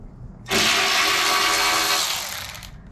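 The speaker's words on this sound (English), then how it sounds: "Right now he's gonna be removing the screws." A power tool removing screws whirs loudly for about two seconds, a steady high buzzing that starts abruptly and then winds down.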